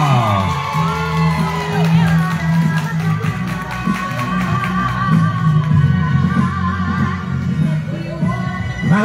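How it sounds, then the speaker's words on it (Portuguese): Lively crowd cheering and whooping for teachers at a special school's closing celebration, a loud continuous mix of shouts and voices with scattered claps, with music or a sound-system tone running underneath throughout. "Uma salva de palmas para os professores aí"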